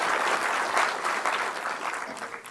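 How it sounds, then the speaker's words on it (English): An audience gives a big round of applause for Professor B.M. Hegde, a full, sustained clapping that stays strong and slowly tapers slightly. "let's give a big round of applause to Professor B.M."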